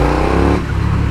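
A KTM Superduke 1290 R motorcycle engine roars close and loud, briefly dropping in pitch as the rider eases off, with no talk.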